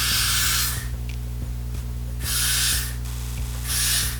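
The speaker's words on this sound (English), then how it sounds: "Now I'm putting Got to Be Spritz on my head." Got to Be Spritz hair spray sprayed from a can in three separate hissing bursts, each roughly half a second to a second long, close and loud over a steady low background hum.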